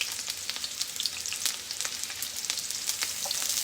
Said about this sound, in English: That's that sizzle.